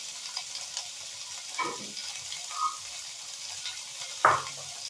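Chicken with papaya cooks lightly in a pan, a faint steady sizzle broken by a few soft stirring scrapes and one sharper clatter near the end, with no speech.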